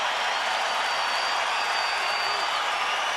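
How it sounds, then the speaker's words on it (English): A basketball arena crowd roars with steady applause and cheering before a 2003 playoff game between the Spurs and Lakers, a dense, continuous wash of noise from a large audience. "And this crowd is ready."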